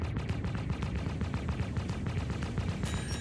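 Ship cannons firing in the Star Citizen space game, a dense rapid stream of heavy repeating thuds that continues loud and steady throughout without talk.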